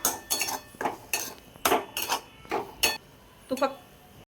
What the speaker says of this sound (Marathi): आपण आता शेंगदाण्याचा कूट छानपैकी मिक्स करून घेऊया।